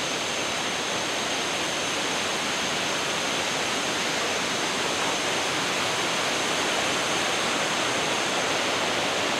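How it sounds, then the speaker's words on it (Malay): A river runs below a forest campsite at Laman Rindu, Sungai Bil, making a steady, unbroken broadband rush of flowing water. It holds constant and moderately loud throughout, with no voices. "Sungai dia dekat bawah tu."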